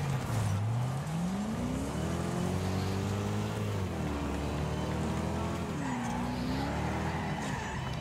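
Fully upgraded taxi racing in the video game Wreckfest, its engine a steady loud drone that rises and falls in pitch with gear changes, under continuous road and tire noise for the whole stretch.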